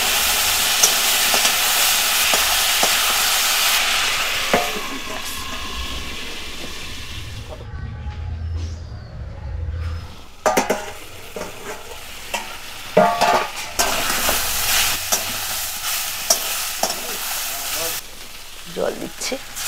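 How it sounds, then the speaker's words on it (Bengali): Cumin, ginger and green chili paste sizzles with pointed gourd stems in a pan in a rural kitchen, a steady close frying hiss broken by scraping stirs, a brief lull, and someone talking over it. "মশলাটা দিয়ে একটু কষিয়ে নেব।"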